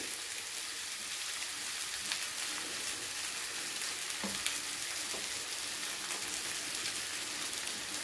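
Spices and egg-dish ingredients sizzle and crackle steadily in a hot pan, a soft continuous frying hiss with occasional small pops and no talking.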